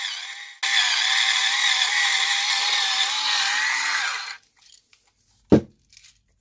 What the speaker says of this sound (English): Now you don't have to grind this by hand. It still takes forever, though.